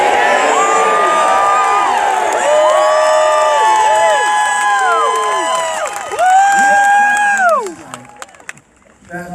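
A large crowd at a Donald Trump rally in Alabama cheers, whoops and shouts loudly and steadily, the roar close and sustained before thinning out near the end.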